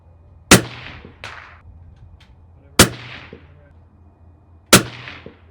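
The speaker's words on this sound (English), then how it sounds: "let's shoot some groups." Three sharp rifle shots from a DIY custom rifle fired at the range, evenly spaced about two seconds apart, each a loud close crack with a short ringing echo or target clang after it.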